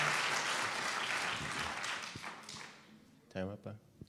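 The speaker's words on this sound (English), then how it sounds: "Please hold your applause." An audience at a state assembly district political debate applauds, dense clapping that fades out over a few seconds before a voice begins speaking close to the microphone.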